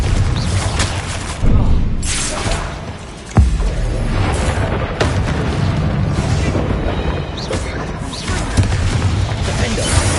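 Confringo fire-blast spells from the Hogwarts Legacy video game, several heavy booming explosions with crashing impacts over a dense, continuous game-combat din.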